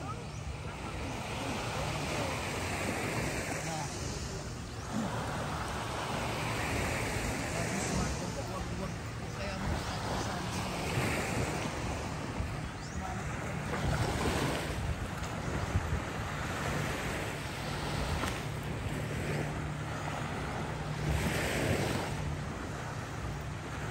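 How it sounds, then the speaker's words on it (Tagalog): Ocean waves washing onto a beach in Boracay, a steady broadband wash with rising swells and wind noise, under people talking. "Ngayon dito tayo sa tabing dagat."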